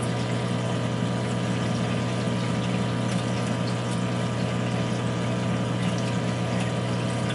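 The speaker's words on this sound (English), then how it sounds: "I plugged in the calcium doser into a hot plug." A peristaltic calcium dosing pump for a reef aquarium runs with a steady, continuous motor hum and whir, constant in level throughout with no pauses.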